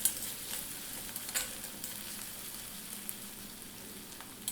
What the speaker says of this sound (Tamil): இப்போது வெங்காயம் பூண்டு எல்லாமே நல்லா வதங்கி வந்திருக்கு